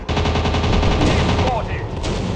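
A plane's machine guns fire in a World War II dogfight mobile video game, a fast, steady rattle of rounds that is loud and continuous. Engine drone runs beneath it, and a brief chirp follows near the end.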